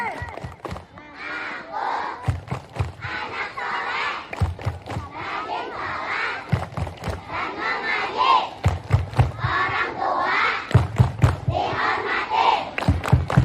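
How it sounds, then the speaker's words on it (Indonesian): Children and mothers at a Maulid Nabi gathering loudly chant the tepuk anak soleh together in unison, punctuated by bursts of rhythmic group clapping that come in short, repeated sets throughout. "Tepuk anak soleh"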